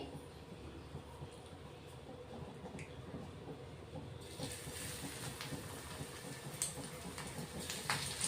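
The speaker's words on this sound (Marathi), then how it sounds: "तेल गरम झालेलं आहे आपलं। आता आपण बोंबील सोडून घेऊ।" Fresh Bombay duck fish slipped into hot oil on a round tava over slow-to-medium gas set off a sudden broadband sizzle that swells midway and keeps crackling, close and fairly quiet.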